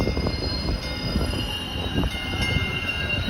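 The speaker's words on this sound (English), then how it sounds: "So here comes the train." A passing train rumbles steadily and loudly up close, with continuous wheel and carriage noise throughout and no voices.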